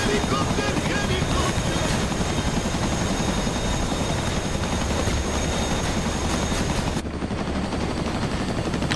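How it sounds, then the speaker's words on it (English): A helicopter's rotors beat in a loud, continuous, dense roar with a constant high whine, steady throughout before thinning slightly near the end. "That Blackhawk can't keep up with us. We have more rotors."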